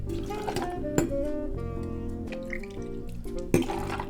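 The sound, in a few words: coffee and whiskey splashing into cocktail shaker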